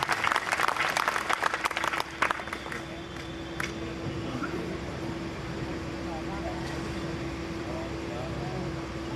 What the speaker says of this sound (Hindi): मैं चाहता हूँ कि तालियों से आप उनका इस्तक़बाल करें,